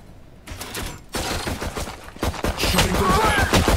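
Gunfire in the tactical shooter Valorant, a dense stretch of rapid shots and impacts that grows louder after a brief gap, sustained bursts close and busy to the end.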